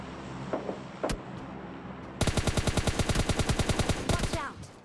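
Rapid automatic gunfire in PUBG Mobile Lite, a loud sustained burst of evenly spaced shots after a few scattered single reports, then trailing off near the end.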